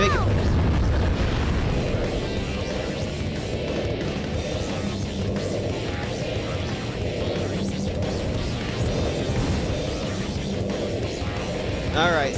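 Booming cannon blasts from the Egg Fleet stage in Sonic Heroes sound through a dense, loud mix of stage music and effects, with repeated explosive thuds and a voice talking over them.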